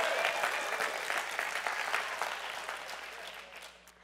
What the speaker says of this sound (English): Give him a great hand clap in this Pentecostal church.